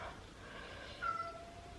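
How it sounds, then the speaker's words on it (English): A pet cat named Jessie cries outside a door while left alone, one faint, brief meow-like call rising above a quiet room's background hum. "my cat is crying outside the door"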